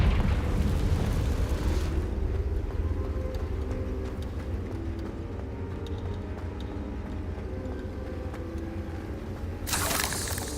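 Confringo blasting-spell explosions in Hogwarts Legacy make a continuous heavy rumbling roar, with sharper bursts flaring at the start and again near the end.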